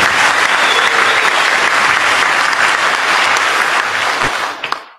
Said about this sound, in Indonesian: Tepuk tangan untuk Pak Beni.